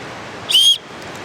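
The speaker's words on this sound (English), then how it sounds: "bear whistle" A single short, shrill blast from a bear whistle on a GoLite Jam2 backpack, loud and close, lasting about a quarter second against a quiet background.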